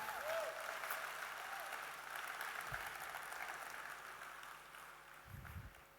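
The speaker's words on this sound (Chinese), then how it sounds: "来，给他一个掌声。" A crowd applauds at an event in Hong Kong, a broad wash of clapping that runs throughout and slowly eases, with faint low thumps underneath.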